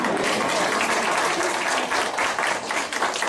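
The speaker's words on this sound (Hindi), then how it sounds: "मैडम के लिए भी डबल तालियां।" A hall full of people claps steadily and fairly loudly throughout at a police officer's retirement farewell after 34 years of service.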